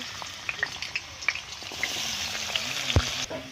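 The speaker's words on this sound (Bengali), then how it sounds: "আলুগুলো ভেজে নেব।" Potatoes frying in hot oil in a kadai give a steady, close sizzle, with a few light metallic clinks of a utensil scattered through it.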